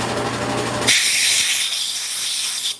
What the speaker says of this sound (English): I'm gonna blow out those holes